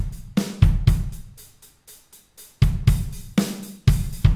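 A soft, very easy drum fill from Logic Pro Drummer on the Damage drum kit plays deep booming hits with a steady groove. Sparse quieter taps fill the middle, then heavy hits return, loud and alone with no talk.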